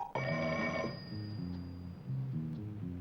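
A telephone rings from inside a golf club, a prop gag in a comedy show: a bright electric bell trill up front, then a repeating low tonal ring continues under the scene.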